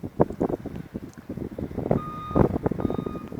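Construction noise nearby: a truck rumbles and clatters while a reversing alarm beeps steadily in the background, with gusts of wind on the microphone.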